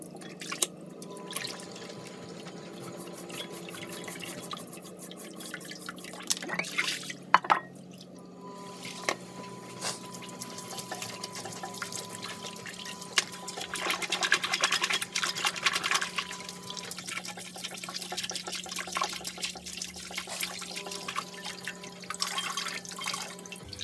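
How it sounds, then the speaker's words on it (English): Water runs steadily into a sink while a Dyson DC25 brush bar is rinsed under the tap, a continuous hiss with drips and splashes and an underlying hum, close and moderately quiet, with no talking. "Give this a clean over in the sink."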